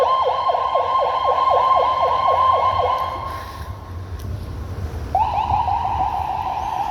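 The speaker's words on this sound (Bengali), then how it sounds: "অ্যাম্বুলেন্সের এত আওয়াজ যে ভাই কিছু না বল" A nearby ambulance siren wails in a rapid repeating yelp over street traffic rumble. The siren drops out for about two seconds and then resumes just as loud, with no voices.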